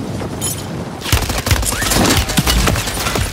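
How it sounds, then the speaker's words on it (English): Dense rapid gunfire from a Call of Duty Warzone match on Rebirth Island, with loud overlapping bursts and sharp cracks coming quickly after a brief quieter stretch. "Watch out, they're shooting at y'all."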